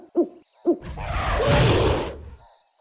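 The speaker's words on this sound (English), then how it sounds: "We hoot and roar when we are mad." A mountain gorilla gives two short, deep hoots, then a broad rushing, roaring burst swells and fades, loud and close.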